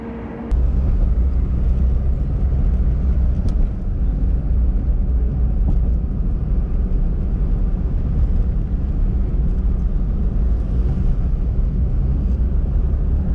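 A car drives steadily on a road near the LSU campus, its low, continuous engine and road rumble filling the cabin from start to finish with a brief knock at the very beginning.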